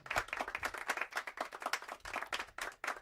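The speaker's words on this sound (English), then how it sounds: "Oh, I get a golf clap for that." A light, polite golf clap: a steady run of soft, close hand claps lasting a few seconds, with no voices over it.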